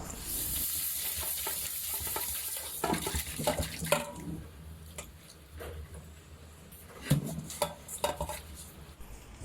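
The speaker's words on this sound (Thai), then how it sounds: "ล้างน้ำสะอาดอีกสักสองสามน้ำนะครับ เพื่อให้หมด ลดเกลือลงออกไปให้หมดเลย" Eel pieces being rinsed in clean water in a kitchen, with splashing and sloshing, pots and utensils clattering and scraping, fairly close and continuous with louder bursts of handling.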